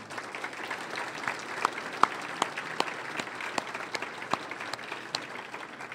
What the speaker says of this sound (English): a round of applause for our 3 speakers this morning